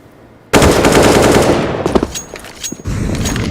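Rapid pistol fire from USP handguns in a Counter-Strike esports match, a dense burst of close, loud shots starting abruptly, then tapering into scattered pops before another sustained stretch of gunfire.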